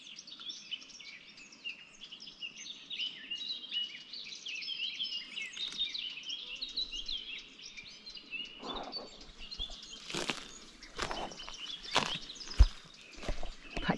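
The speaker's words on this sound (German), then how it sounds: "Die Mönchsgrasmücken, diese kleinen Vögelchen, sind einfach so gut getarnt jetzt im Laub." Eurasian blackcaps call from leafy foliage on a sunny outing, a continuous faint twittering, with a few sharper, louder chirps near the end.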